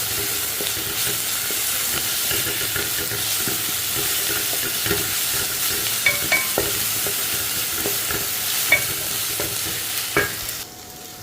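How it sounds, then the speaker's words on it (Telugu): Ginger garlic paste frying with onions in a pan for a brinjal tomato curry, a continuous loud sizzle with spoon scrapes and stirring clicks throughout, ending abruptly. "ఇప్పుడు అల్లం వెల్లుల్లి పేస్ట్ వేసుకుందామండి కొంచెం లైట్గాని అదిగోండి ఇది కూడా పచ్చివాసన పోయేంత వరకు వేపించుకుని"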